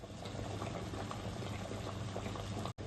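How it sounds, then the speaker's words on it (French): Water heating in a saucepan on the stove, close to a boil: a soft, steady bubbling and simmering hiss, quiet and close, with no talk. "je suis en train de faire chauffer l'eau dans ma casserole. Elle est presque en train de bouillir."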